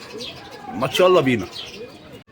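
Pigeons in an Egyptian loft coo softly at close range, with a short burst of chirps and rising calls in the middle. Someone speaks over the birds.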